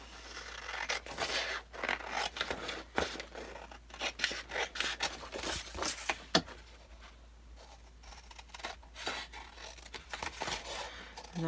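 Scissors trimming the edges of paper for a handmade book folio, with a run of close, crisp snips and rustling cuts coming in uneven bursts and short pauses.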